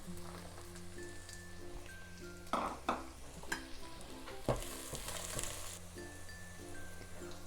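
Onions and chilies frying in a pan for veg pulav, a steady close sizzle with bursts of spatula scraping and clatter in the middle, over soft background music, no speech.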